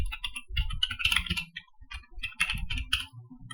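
Rapid, uneven keystrokes on a computer keyboard while Python code is typed, clustered in quick bursts with short pauses, close and clear with no talking.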